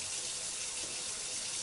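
Cold water runs steadily from a kitchen tap into a sink, splashing over a metal pot during kashering of pots and silverware for Passover; a close, continuous hissing gush with no talk.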